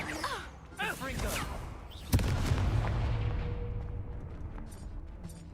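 A Confringo fire spell bursts in a Harry Potter video game as one sharp, loud explosive boom, its rumble fading over a few seconds; a voice speaks beforehand.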